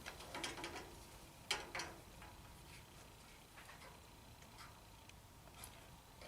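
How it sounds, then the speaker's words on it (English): A few faint clicks and ratcheting ticks as a jointer cutter head is turned by hand to bring the next knife into position, quiet and close over soft background hiss. "We'll rotate the cutter head to the next blade"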